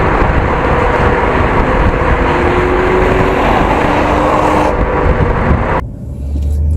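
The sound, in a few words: BMW 435i accelerating onto the highway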